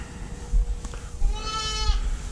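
Sheep ewes bleat in a pen with newborn lambs, one drawn-out wavering bleat rising clearly over a steady low rumble of barn noise and shuffling, close by.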